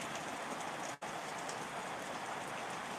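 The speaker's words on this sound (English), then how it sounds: "The rain is very soothing." Rain pours steadily outdoors, a loud, unbroken wash of drops hitting the ground nearby, briefly cut off for a moment before resuming.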